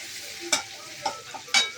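A spoon scrapes and stirs an onion-garlic masala with curry leaves in a pan, three sharp strokes over a soft sizzle, close and clear.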